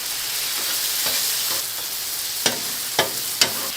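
Chicken sizzles steadily in sauce on a hot hibachi griddle, a constant frying hiss with a few sharp pops and clicks near the end.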